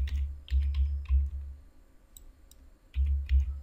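Typing on a computer keyboard, close clicky keystrokes in two quick bursts separated by a short pause, with no talk.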